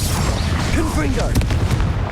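A loud, booming Confringo explosive spell blast from Hogwarts Legacy, heavy and sustained, layered with a shouting voice and rumbling combat noise.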